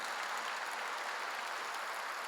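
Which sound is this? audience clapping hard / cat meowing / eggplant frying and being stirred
audience clapping hard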